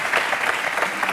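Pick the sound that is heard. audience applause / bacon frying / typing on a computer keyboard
audience applause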